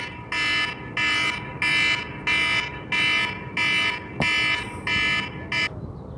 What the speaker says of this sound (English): So my alarm went off in the middle of the talk.